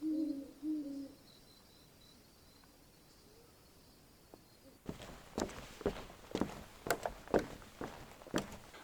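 Hoots of a barred owl in woods at night, a couple of low calls at the start, faint and somewhat distant, followed by quiet and then a run of crunching footsteps close by.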